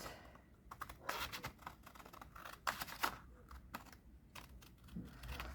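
Scissors cutting down paper for a handmade junk journal: a close, quiet run of crisp, rapid snips and rustles with no speech.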